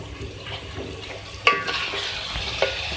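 Spices stirred into chicken and mustard greens in a pan, a low steady sizzle with occasional scraping and a sharp clink of the spoon against the pan, close and unaccompanied by voices.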